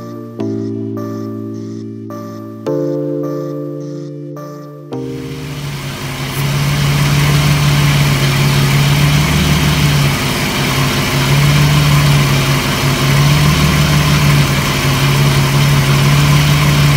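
A BMW E30 engine idles while warming up, heard as a steady loud running drone after several earlier on-off tones. It continues alone without talk.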